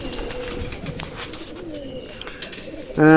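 Low coos from pigeons kept in small pigeon houses on a farm murmur continuously nearby, soft and rolling, with a sharper, louder call cutting in at the end.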